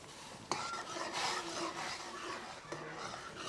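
Gram flour being stirred steadily into boiling water for pithla on a wood-fired chulha: a continuous scraping swish of a spoon against the pot, with a sharper clack near the start and another later, close and fairly quiet.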